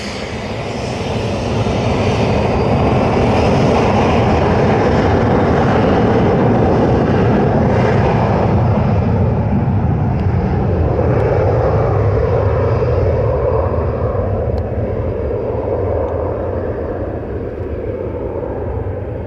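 Boeing 777-300 taking off at Montego Bay, Jamaica: a loud, sustained jet engine roar that stays powerful throughout and eases slightly toward the end as the aircraft climbs away.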